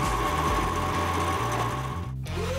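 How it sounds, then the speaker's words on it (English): A wood lathe turns timber while a skew chisel cuts on the bottom half of its blade, for a coffee tamper handle. The motor hum stays steady and loud throughout, with a rhythmic chattering cut layered over it and no talk. "As you can see with the skew chisel, I'm only cutting on the bottom half of the blade."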